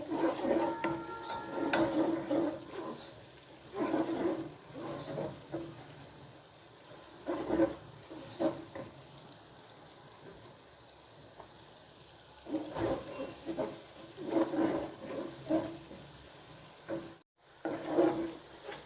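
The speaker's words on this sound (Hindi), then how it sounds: "इसको हम लाइट 2 से 2 मिनट के लिए हम इसको भूनेंगे।" Chicken and chana dal fry gently in oil, a soft steady sizzle with bursts of stirring and scraping against the pot, coming and going in clusters, with quieter gaps between.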